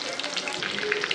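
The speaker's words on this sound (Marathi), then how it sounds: "सोयाबीन आता थोडं फ्राय करून घेऊया" Soybeans frying in hot oil in a kadhai give a steady, close sizzle with scattered crackles, continuous and fairly loud throughout the short stretch.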